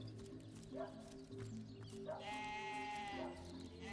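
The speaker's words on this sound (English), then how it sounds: "There's a sheep." A sheep in the fantasy role-playing game Divinity: Original Sin bleats twice, a short call followed by a longer wavering one, over soft in-game ambience.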